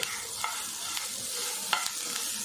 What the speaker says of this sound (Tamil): நல்லா ஃப்ரை பண்ணிக்குவோம் கேரட்டு